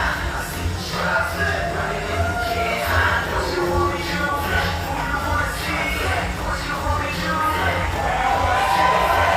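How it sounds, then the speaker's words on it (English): A Brisbane crowd at a professional wrestling show applauds and cheers a wrestler in a large arena, a steady dense roar of clapping and shouts rising slightly toward the end. "giving this Brisbane crowd a chance to applaud Chris Bay"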